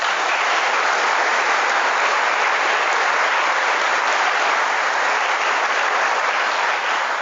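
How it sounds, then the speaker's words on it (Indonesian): Loud, dense applause from a large crowd of listeners at a religious gathering, steady and sustained throughout without any pause or voices on top. "Coba tepuk tangan sekali lagi."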